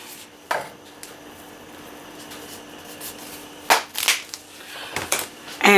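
Creole seasoning and onion powder being stirred in a pan while preparing meal-prep food: a few sparse scrapes and light metallic clinks, close and fairly quiet, with short pauses between the strokes.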